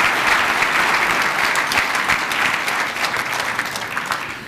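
Audience at an automotive advertising awards ceremony at the 2007 New York Auto Show applauds the Ford winners, dense steady clapping from a crowd throughout, with no talk over it.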